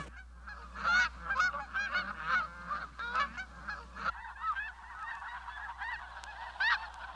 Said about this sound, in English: here comes a goose that is smaller than the Canada goose and it's all white